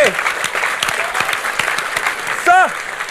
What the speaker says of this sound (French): applaudissez s'il vous plaît, applaudissez tous.